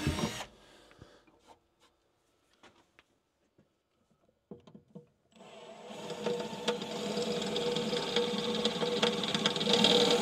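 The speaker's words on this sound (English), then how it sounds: "let's go ahead and drill the holes to hold our converter" A power drill starts up after a few faint clicks and knocks, then whines steadily and loudly for several seconds as it bores holes for a remote control crane converter.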